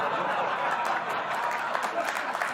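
A studio audience claps in a dense, continuous wash of applause mixed with a few chuckles, moderately loud and steady throughout.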